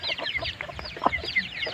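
A large chicken clucks close by in a quick, uneven string of soft clucks and chirpy notes, with other fowl faintly calling in the background.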